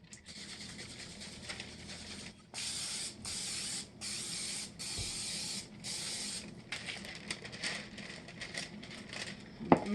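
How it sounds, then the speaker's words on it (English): Olive oil cooking spray hisses onto parchment paper in a series of short, even bursts, close and clear, followed by quieter rustling and handling sounds. "I'm going to use olive oil spray."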